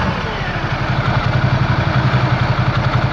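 A Ducati Multistrada 1260 Enduro motorcycle idling, its engine giving a steady, deep, lumpy thrum with a regular pulsing beat, close and constant with no revving.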